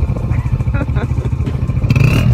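A motorcycle carries riders on a trip toward Fort Munro, its engine droning steadily up close with a rising rev near the end, mixed with wind and clatter, while people talk over it.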